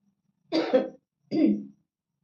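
Two short, close coughs with a throaty, clearing quality, separated by a brief pause, with no talking.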